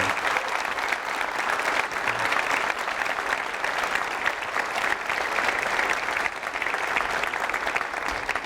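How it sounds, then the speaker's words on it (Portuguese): An audience at a bookstore talk claps in tribute to Rubens Saraceni, a loud, continuous burst of applause that stays strong and even throughout. "Que a gente bata palmas a Rubens Saraceni."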